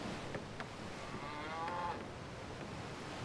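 Cattle mooing from a pasture in the strategy video game Civilization V: a single drawn-out, moderately loud moo over a steady low ambient game soundtrack, with no talking.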